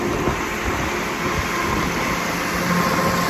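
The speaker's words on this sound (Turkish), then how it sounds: "Rüzgar duyduğunuz gibi bayağı var." Strong wind roars steadily across open farmland beside an Erkunt tractor during silage work, a constant loud rushing with low buffeting rumble and no voices.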